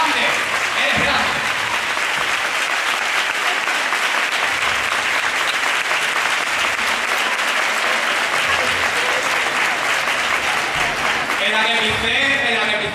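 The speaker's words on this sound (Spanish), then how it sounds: "Un aplauso a mi amigo Pedroza" A crowd at a carnival proclamation event in Chipiona's Plaza Vieja bursts into sustained, loud applause, a dense unbroken roar of clapping lasting many seconds, with a voice speaking faintly near the end.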